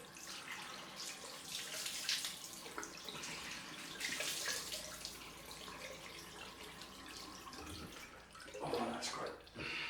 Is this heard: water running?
yes